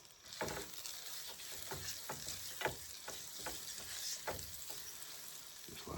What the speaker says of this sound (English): put some butter in this skillet